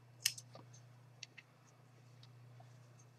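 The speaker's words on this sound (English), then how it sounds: "and I'll cut my yarn." Scissors snip through crochet yarn in a quiet room, giving one faint crisp cut followed by a few soft clicks over a low steady hum.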